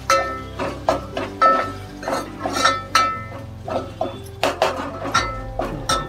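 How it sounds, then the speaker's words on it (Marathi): A spoon scrapes and clinks against a pan on a high flame as turmeric is stirred in with dried shrimp, eggplant and potato. Irregular metallic knocks and scrapes sound close by, with no talk. "थोडीशी हळद टाकायची, ती पण परतून घेते चांगली"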